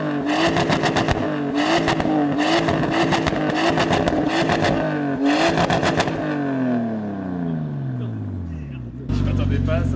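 A tuned Nissan Skyline R34 engine revs hard in repeated bursts, then accelerates with a rising, falling drone before a loud final roar, with people talking over it.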